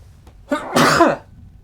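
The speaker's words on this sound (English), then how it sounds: "I'm gonna sneeze" A single close sneeze indoors: a short sharp intake followed by an explosive burst of breath lasting about half a second, then silence.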